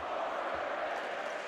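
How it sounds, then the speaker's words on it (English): A basketball arena crowd at a Michigan vs #3 Purdue men's game chants "overrated" in a dense, sustained roar of voices, loud and continuous with no clear breaks. "we got a crowd chant of overrated"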